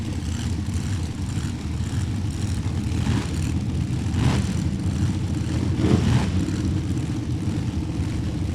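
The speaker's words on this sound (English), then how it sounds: "Peevler out of Olney, Illinois, spinning the Pro Charger, centrifugally driven supercharged operation." A ProCharger centrifugally supercharged drag racing car at a Topeka event gives a steady, loud engine drone that swells and surges around the middle of the run, with no talk over it.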